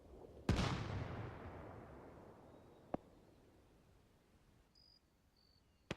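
Distant artillery fire in Arma 3: a booming blast that rumbles and fades over a few seconds, followed by two sharper, fainter far-off cracks, set against a quiet background with faint insect-like chirps.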